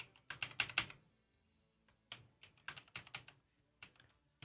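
Bursts of rapid keystrokes on a computer keyboard, close and crisp, in three clusters separated by short quiet pauses, with no talking.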